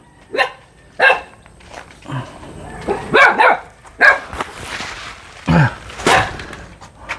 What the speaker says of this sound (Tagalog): May mga aso.